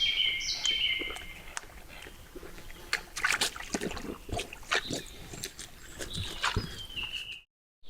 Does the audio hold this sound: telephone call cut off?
no